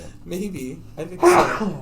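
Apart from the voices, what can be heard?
sneeze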